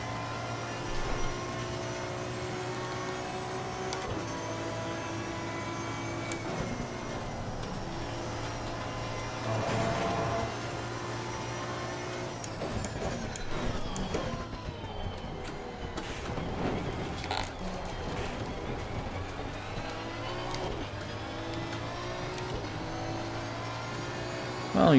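McLaren GT4 race car engine running steadily behind in Assetto Corsa Competizione, a continuous loud droning whine with shifting pitch throughout, alone without talk.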